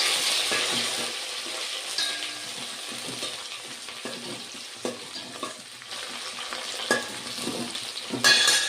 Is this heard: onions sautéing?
yes